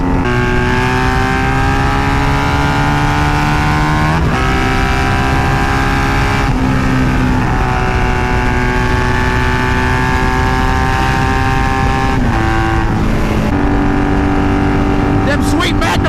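Steady loud motorcycle engine with magnum exhaust pipes, holding a continuous harmonic drone that shifts pitch several times as it revs up and down, with no pause across the whole stretch.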